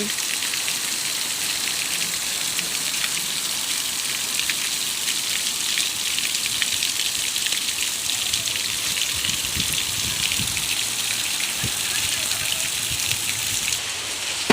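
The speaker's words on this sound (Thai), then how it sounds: "ฝนตก" Steady, dense rain falls on a vegetable garden: a continuous close hiss of drops hitting leaves and soil, unbroken for the whole stretch.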